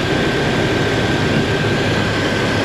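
A steady, loud engine rumble from a 2001 Toyota Tacoma idles evenly throughout, cold and still idling high, with a constant high whine above the low roar.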